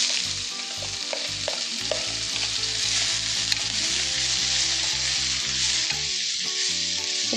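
A jackfruit seed mixture fries in hot oil with popped mustard seeds, giving a loud, continuous crackling sizzle up close, with a steady low tonal hum running underneath.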